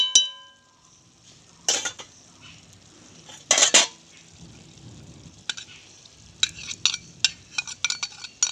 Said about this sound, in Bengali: ধনেপাতা দিয়ে একটু নেড়ে চেড়ে